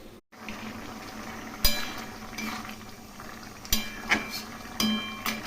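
Soybean curry with potato and pointed gourd bubbling in a pot after water is added, a steady simmering hiss with occasional soft clinks and pops, close and alone.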